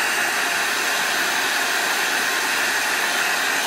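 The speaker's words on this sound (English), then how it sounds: "I'll show you how you too can now braze holes in aluminum" Torch brazing aluminum tubing with Al-Cop rod produces a continuous, loud roaring hiss of the flame, steady and unbroken for the whole stretch, with no voices.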